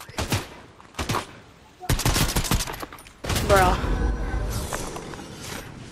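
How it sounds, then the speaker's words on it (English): Gunfire in the Fortnite video game, sharp bursts of rapid shots in several clusters, loud and close, followed by a whooshing clatter, with a voice speaking partly over it. "We're getting shot at."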